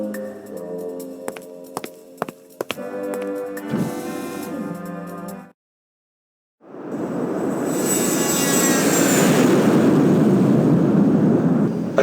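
An airplane in flight in the video game Zak McKracken gives a loud, steady roar that swells after a short silence and keeps rushing on, following a stretch of synthesized game music.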